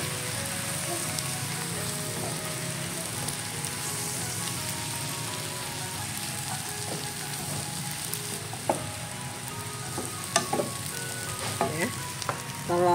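Mustard greens stir-fry in a pan with omelette pieces and seasoning, a soft steady sizzle with occasional sharper scrapes and clatters of the utensil toward the end.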